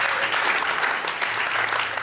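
Theater audience at a live basketball podcast show in Atlanta applauding, a dense, even wash of many clapping hands, close and loud, sustained without a break for the whole stretch.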